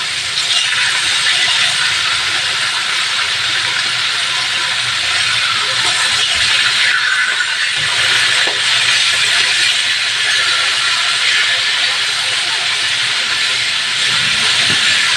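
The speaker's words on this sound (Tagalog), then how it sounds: "bahagya lang na pagprito" Loud, steady sizzling and hissing of fish frying in hot oil, close up, with faint crackles and pops scattered through the constant spatter.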